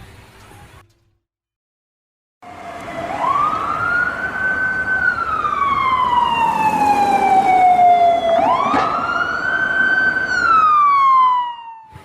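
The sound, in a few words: ambulance siren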